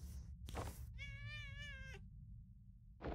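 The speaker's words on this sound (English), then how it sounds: "Oh, we made the cat cry." A cat cries out in the video game Impostor Factory, one long, wavering, melodic meow with rich harmonics lasting about a second, framed by a short burst of sound before it and a low background hum.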